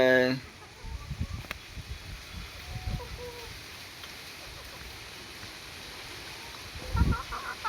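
Hens clucking in short bursts at the start and again near the end, with a person speaking softly over faint background noise.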